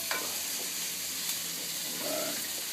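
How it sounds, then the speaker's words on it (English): Bacon sizzles and spits in hot grease with chili and jalapeno seasoning, a steady bright frying hiss with a couple of small stirring clinks, alone and close. "Bacon's all starting to cook up nice and right"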